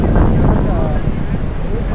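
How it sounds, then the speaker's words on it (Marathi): Strong wind on an open Goa beach at Agonda buffets the microphone in a constant heavy roar and rumble, with a voice faintly present underneath. "वारा खूप डेंजर आहे इकडं."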